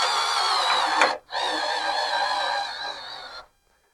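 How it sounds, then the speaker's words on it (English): A cordless drill drives a 1-inch self-tapping screw into a wooden workbench while casters are fitted, its motor whining loudly and up close in two bursts separated by a brief pause. "So I'm going to put the first screw right in here like so."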